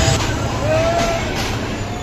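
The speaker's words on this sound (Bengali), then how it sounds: "প্ল্যাটফর্মে ঢুকে গেছে ট্রেন এবং ট্রেনের উপরে হাজার হাজার লোক দাঁড়িয়ে আছে" A crowded train at Sreepur Railway Station in Bangladesh rolls into the platform on a rainy day with people packed on its roof; a steady low rumble with a brief whistle-like tone rising over it.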